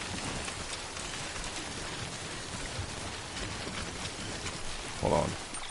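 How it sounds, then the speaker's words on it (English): Steady rain pours down in the Death Stranding video game, a dense continuous hiss with one brief louder burst near the end. "And it's raining again."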